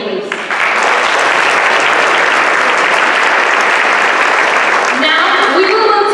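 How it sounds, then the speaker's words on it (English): Loud, sustained applause from an audience at a panel event, a steady dense burst of clapping lasting several seconds with a brief lull near the end. "I ask for another round of applause for Hamdi and Guido, please."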